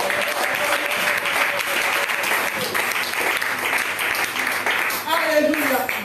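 A church congregation applauds loudly and steadily during a Sunday worship service, a dense continuous wash of clapping with voices calling out over it and a brief tonal sound near the end.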